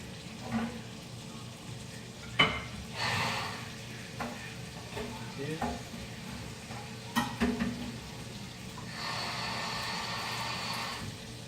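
A spatula stirs and scrapes across the bottom of a pot of hot flour roux for chicken and sausage gumbo, a steady sizzling, scraping texture with a few sharp clinks against the pot and a brighter hiss near the end.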